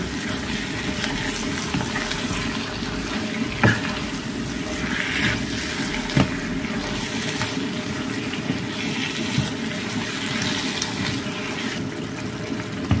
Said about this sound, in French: j'ai ajouté 200 ml d'eau là-dedans